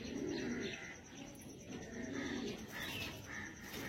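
Pigeons on offer at a loft coo in soft, repeated low phrases, several birds overlapping at close range, with faint chirps above and no talk.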